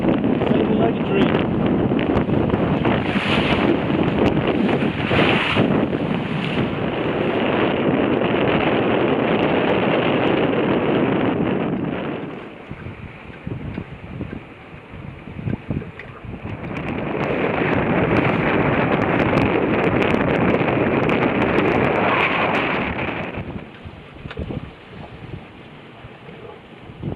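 Wind roars across a sailboat moving at about 6 knots in a 15-knot breeze on fairly flat water, loud gusty rushing that drops away in the middle, then builds again before fading near the end.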